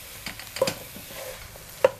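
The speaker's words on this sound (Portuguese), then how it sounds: "Nós vamos dar uma mexida aqui para ele cozinhar." A spoon stirs tomato with other ingredients in a cooking pan, producing a few close scraping and clattering strokes with faint soft sizzling underneath.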